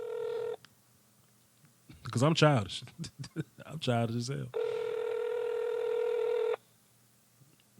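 Steady electronic phone-line tones sound near and loud at the start and again for about two seconds later, with someone talking between them during a call-in post-game sports show.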